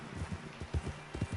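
Horse hooves clop along in Red Dead Redemption 2, a run of soft, rhythmic thuds at a steady trot pace, fairly quiet and heard alone without talking.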